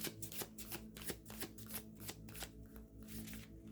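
Deck of tarot cards being shuffled by hand up close, a quiet run of quick riffling flutters and soft slaps repeating steadily for a few seconds.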